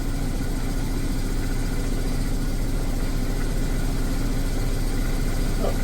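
A Mazda RX7 FC rotary engine, recently flooded and having coolant trouble, idles at about 800 to 900 RPM. It gives a continuous, loud, slightly lumpy low drone with a fast pulsing rhythm and no talking.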